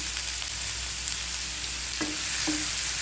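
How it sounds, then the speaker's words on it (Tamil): Onions and ginger-garlic paste sautéing in oil for chicken poriyal, a steady close hiss with a couple of soft utensil taps. "நல்லா வதக்கி விட்டுக்கிறேன்"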